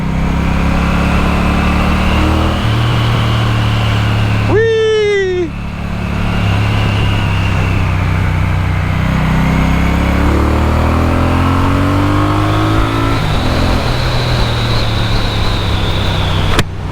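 Engine of a 2024 Triumph Bonneville T120 motorcycle, steady mid-pitched rumble rising and falling through revs, close and loud for the whole stretch, with a brief sharp sweeping squeal near the middle.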